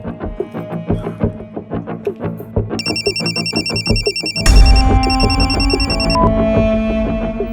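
A telephone rings with a repeated electronic trill in two bursts, loud over a steady background of music, with no voices.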